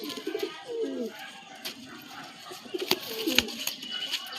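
Pigeons flutter and coo in close hands at a Kolkata pigeon sale, low throaty coos repeating through scuffling and wing flaps, with brief sharp clatters.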